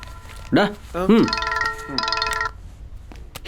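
A phone ringtone plays several bright chiming notes, loud and close, in a short repeating melodic burst, with a voice briefly speaking at the start.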